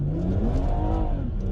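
A car with a tuned BMW B58 inline-six engine accelerating hard, a loud close engine note rising in pitch over a second and a half, with no talking.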